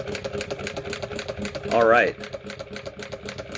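A sewing machine doing dense fill stitching to add color on jeans: a steady, rapid mechanical patter running throughout, with people talking over it.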